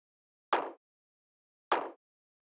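Two isolated clap hits from a deep techno track, evenly spaced and fairly quiet, each with a short reverb tail that fades quickly into silence.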